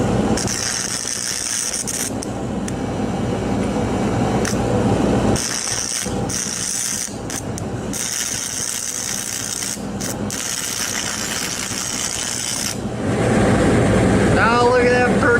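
A stick welder runs a 6010 rod on AC at about 110 amps. It makes a close, steady crackling hiss with several brief breaks in the arc, and a short voice is heard near the end.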